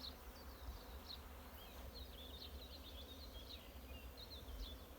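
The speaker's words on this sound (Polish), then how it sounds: "Rój. Chyba nie do ściągnięcia. Bardzo wysoko." A swarm of honey bees hums high overhead in the open air, a steady, distant buzzing drone with occasional bird chirps.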